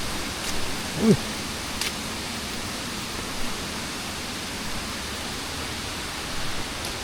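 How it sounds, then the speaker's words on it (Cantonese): A swollen stream on a rainy day near the Aberdeen reservoirs on the Hong Kong Trail rushes in a steady, even broadband wash, close and constant with only a brief faint knock. "流水聲"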